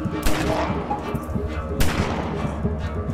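Gunfire from the video game Greyhill Incident: two sharp, loud shots spaced over a few seconds, each trailing off into a rumbling echo over a low background bed.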